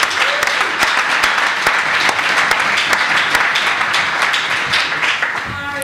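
Audience at a university startup event applauding a volunteer, with steady, dense clapping and a few sharper individual claps standing out, continuing evenly for about six seconds.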